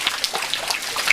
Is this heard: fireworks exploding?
no